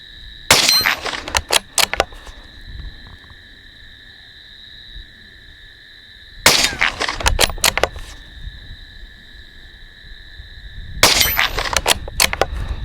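Rifle shots fired at a steel gong at 50 metres at night, heard as three separate clusters of sharp cracks and metallic rings spaced several seconds apart, over a steady high electronic tone.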